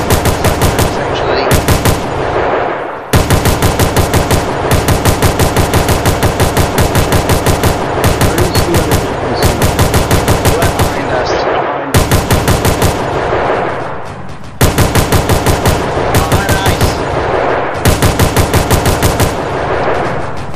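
Automatic gunfire from a gunner in a Roblox military simulation game, loud and close, in sustained rapid bursts separated by brief pauses, with some talk underneath.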